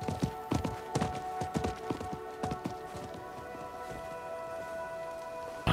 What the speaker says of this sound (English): I think that was the merchant's horse.